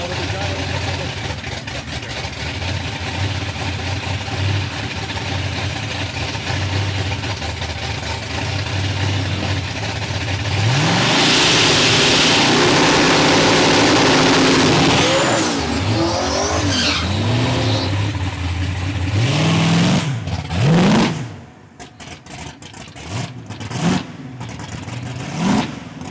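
A Ford Mustang drag car at a drag strip, its engine swelling to a loud, sustained roar as it launches and accelerates away, then fading to quieter background noise.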